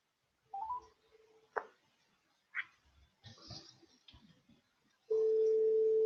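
Someone dials a telephone to place a call: a few quiet, scattered keypad beeps and small handling clicks, then a steady, loud tone that holds to the end.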